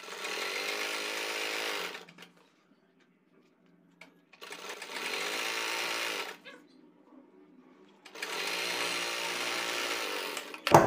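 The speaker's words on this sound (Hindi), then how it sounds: "अब इसी तरीके से हम अपनी पूरी सिलाई को कंप्लीट करेंगे।" A sewing machine stitching pintucks on fabric runs in three steady whirring bursts of about two seconds each, separated by near-silent pauses, close and clear with no talk.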